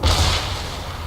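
Enemy warship gunfire in World of Warships lands as a single heavy boom at the start, then rolls off into a fading rumble.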